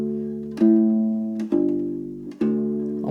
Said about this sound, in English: So a Bossa Nova line could sound like this